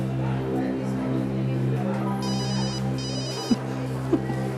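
An electronic telephone ring trills in two short bursts beneath a constant low hum, with faint voices nearby.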